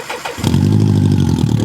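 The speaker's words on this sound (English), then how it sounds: "I also have not started this thing in about 4 months, so I'm curious to see if it fires off." A cafe racer motorcycle engine cranks briefly and then fires, catching into a loud, close, throbbing idle that holds steady to the end.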